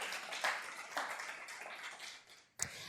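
Scattered clapping from an audience at a Rotary International talk, uneven and moderately loud with a few sharper individual claps standing out, including a distinct close clap near the end.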